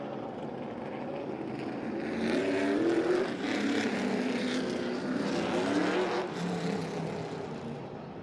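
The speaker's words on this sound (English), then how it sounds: "4 cars about to head out onto the racetrack now" Several late model race cars roll out onto the Hickory racetrack in North Carolina for final practice, their engines a steady broad roar at moderate distance that swells slightly as they move off, with no talk.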